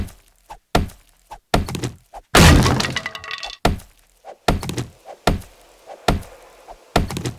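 Repeated blocks breaking in the survival game 7 Days to Die, heard as a series of sharp, close cracking thunks in an irregular rhythm, with one longer, louder splintering crash partway through.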